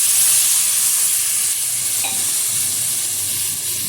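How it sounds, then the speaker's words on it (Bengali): Fried eggs stirred in spiced oil in a pan, a loud, close, steady sizzle with a bright hiss throughout and a faint scrape of the spatula midway, no voices. "দিয়ে দিচ্ছি ভেজে রাখা ডিম, একটু নেড়ে চেড়ে নেব"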